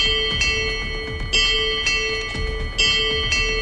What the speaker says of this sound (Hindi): घंटियां अपने आप बजने लगती हैं।